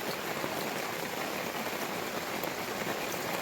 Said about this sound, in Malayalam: വലിയ മഴയാണ്